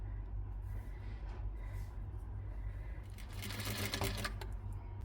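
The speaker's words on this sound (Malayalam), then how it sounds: "ദാ 2 സൈഡും സ്റ്റിച്ച് ചെയ്തെടുത്തിട്ടുണ്ട്." A sewing machine stitches the side seams of an umbrella-cut garment, giving a steady low mechanical whir that continues without break and rises into a brighter, faster rattle toward the end. The sound is fairly quiet, with no talking.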